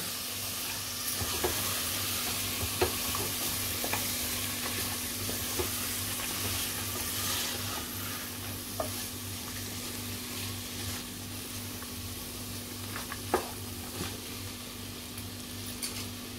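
Soaked chana dal frying in a pan gives a steady, even sizzle and hiss, with occasional faint clicks of a spoon stirring against the pan, close and continuous, with no talking.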